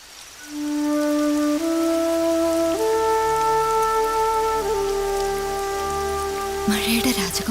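Steady falling rain hisses across the whole stretch beneath sustained, slowly stepping musical tones, with a brief louder rustle near the end.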